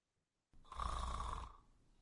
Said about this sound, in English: So first we hear heavy snoring